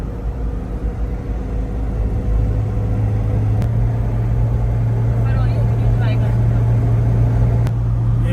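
A car cruises along the M4 motorway toward Islamabad, its steady low road and engine rumble continuous throughout, with a couple of brief clicks and faint hiss from passing air.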